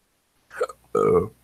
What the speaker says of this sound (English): I got like hiccups and burps trying to go on at the same damn time